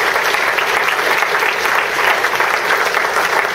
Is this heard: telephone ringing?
no